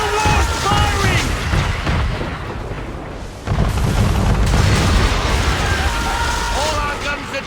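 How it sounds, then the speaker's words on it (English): A man-of-war ship fires its cannons in the video game Assassin's Creed 3, producing loud, dense booming blasts with rumbling low end, mixed with shouting voices and battle noise throughout. "Man of war's firing!"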